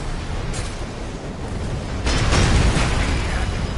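Mech combat in Armored Core 6 produces explosions, a crackling burst early on, then a heavier, sustained boom-and-rumble in the second half, loud and alone without talk.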